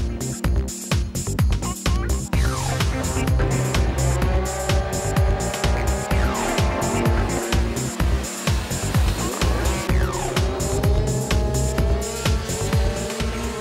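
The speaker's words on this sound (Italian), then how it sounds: "Nella Open A, partenza decisa quella di Mattia Bucciarelli su DM," Minimoto racing engines wail in a dense pack at a race start on a track in Latina, with high, buzzing, overlapping revs rising and falling and sharp periodic cutouts, loud and close throughout.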